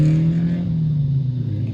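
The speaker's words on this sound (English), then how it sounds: "You can probably hear the car in the background," A car engine drones steadily in the background, a loud low hum that holds for under two seconds and fades slightly as it passes, with no talking over it.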